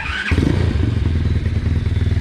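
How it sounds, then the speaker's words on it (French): A motorcycle engine starts with a brief whine and catch, then settles into a loud, steady, close-up idle as it warms up before an oil change, with no talk. "vous allez commencer par faire chauffer votre moto. Vous la démarrez."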